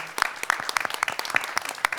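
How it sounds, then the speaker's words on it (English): An audience at a delegate assembly applauds volunteers with scattered, uneven claps from a small crowd, faint and a little distant, over about two seconds. "And they deserve a big round of applause."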